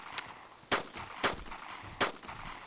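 Several sharp gunshots in the video game DayZ ring out at uneven intervals, a faint pop followed by three louder cracks, with no talking.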